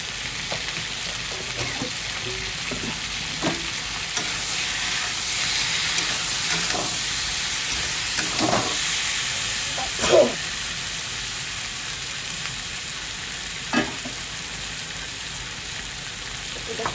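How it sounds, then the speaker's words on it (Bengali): Fish coated with turmeric and salt fries in a pan with a steady, bright sizzle and hiss, broken by occasional louder crackles and spatters as it cooks. "এটা দিয়ে পুরো ভাজবো এখন"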